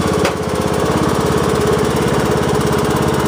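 A Craftsman LT2000 riding mower engine chugs while the mower moves in reverse, a close, loud, rapid pulsing putter with a brief knock near the start and no talking.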